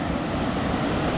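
Steady, dense rushing roar of water at a deep-pooled waterfall, Yunsen Falls or Sister Falls, heard close and unbroken throughout with no voices.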